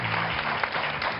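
Studio audience applauding on a television talk show, a short dense burst of clapping with faint voices underneath.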